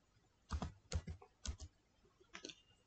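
Typing on a computer keyboard, a few quick clusters of soft, close key clicks in an otherwise quiet room.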